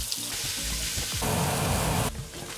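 Chopped garlic cloves and diced onions sizzling in a pot, a steady loud frying hiss that swells as the food hits the hot oil, with a faint clatter at the start.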